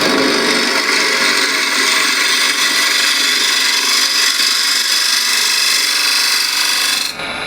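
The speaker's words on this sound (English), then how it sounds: "Again, I'll use a spindle gouge." Spindle gouge truing up the top of a wooden bowl spinning on a lathe, a loud continuous scraping hiss of the cut that holds steady for several seconds before cutting off abruptly.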